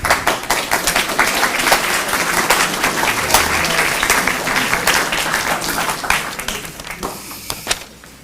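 Audience applause welcoming a guest speaker to a lecture on Plato's Apology, a dense, steady wash of many hands clapping close by that tapers off toward the end.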